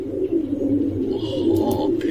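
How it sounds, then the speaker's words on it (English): Pigeons coo in a park within a video game, a steady low murmur of overlapping calls running throughout with faint chirps above. "Oh, pigeons."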